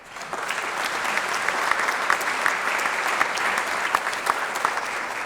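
Steady applause from an audience at a small business awards event fills the room, many hands clapping together with sharp individual claps standing out, sustained for several seconds without talk.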